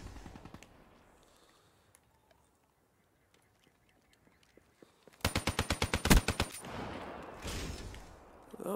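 Rapid burst of gunfire in Black Ops 3 free-for-all play, a loud string of evenly spaced shots after a quiet stretch with only faint clicks, followed by a few more scattered shots and game noise.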